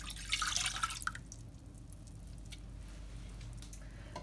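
Water is poured into raspberry juice in a pot before boiling, making a splashy liquid rush in the first second. Faint drips and a quiet kitchen background follow.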